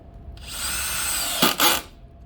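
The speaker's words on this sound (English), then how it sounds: "Next, we're going to take our long wood screws and seal down our surface" A power drill drives long wood screws into a wooden base, a steady high whir lasting about a second followed by two short bursts as the screw seats, close and loud with no voices.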